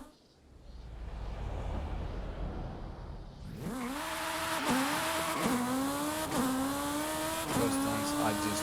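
A car engine in the Forza Horizon 5 racing game revving hard through repeated gear shifts, each rising whine dropping and climbing again, loud and near, after a quieter opening with a brief bit of talk.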